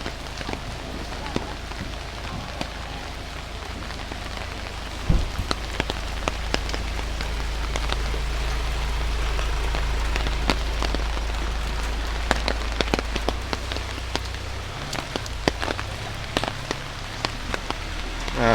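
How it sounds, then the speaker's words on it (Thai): Rain in Luang Prabang, Laos, during the rainy season, a steady hiss of drops on surfaces with sharp nearby drips and patters, while a low rumble swells in the middle and someone speaks softly at times. "บรรยากาศฝนฟ้าก็จะประมาณนี้ครับ"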